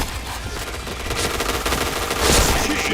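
Dense automatic gunfire and rapid shots from a first-person shooter game, continuous and loud across the whole stretch, with a heavier burst near the end.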